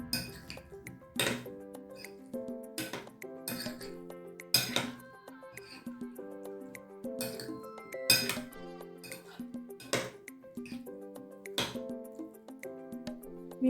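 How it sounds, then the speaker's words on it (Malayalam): A spatula clinks and scrapes in a pan as onion, capsicum and paneer masala are mixed for paneer tikka masala. Irregular sharp metallic taps repeat close by over steady background music. "ഇനി ഇതൊന്നും കൂടെ നമ്മൾ മിക്സ് ചെയ്യുക."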